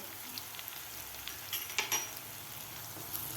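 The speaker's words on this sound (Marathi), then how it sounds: "कांदा आणि टोमॅटोमध्ये मसाले सुद्धा आपले एक मिनिटभर परतून घेतलेले आहेत" Spices frying with onion and tomato in a pan, a faint soft sizzle with a few light stirring clicks and scrapes.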